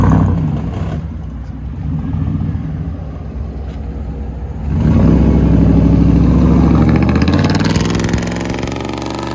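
A 2013 Chevy Camaro SS with a 6.2 liter V8, four factory converters and an X-pipe delete, rumbles loudly close by, idling deep then revving up into a stronger roar that settles back.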